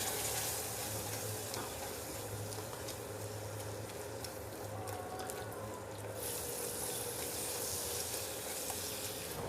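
Garlic pepper beef sautéing with flour in a hot pan, a steady close sizzle with scraping stir strokes and occasional clinks, no talking.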